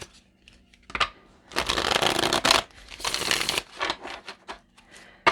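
Tarot cards are riffled and shuffled close by in a few bursts of papery flapping, with soft handling noises between them.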